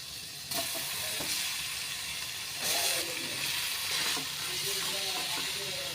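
Cubes of paneer frying in butter in a pan give a continuous bright sizzle and hiss, swelling at moments as pieces are moved, close and fairly loud with no speech.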